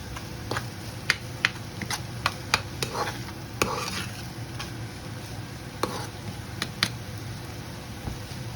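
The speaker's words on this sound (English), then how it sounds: "So it's going to stir fry that." Vegetables stir-frying over high heat in a pan make a soft sizzle under a low hum, broken by sharp, irregular utensil clicks and taps as they are tossed.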